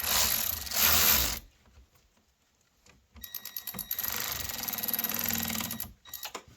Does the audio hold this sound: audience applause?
no